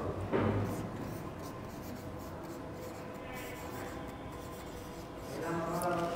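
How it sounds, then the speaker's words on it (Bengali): Hand writing out auxiliary verbs, a soft continuous scratching of pen or chalk, faint and steady, swelling briefly at the start and near the end. "দেখো আমি একটু অক্সিলারি ভার্বগুলো লিখি"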